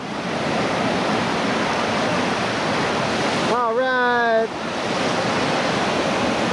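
Whitewater rapids on the Lower New River in West Virginia give a loud, continuous rushing roar of churning water. A brief shout breaks in partway through.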